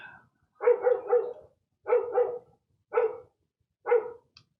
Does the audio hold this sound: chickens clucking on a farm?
no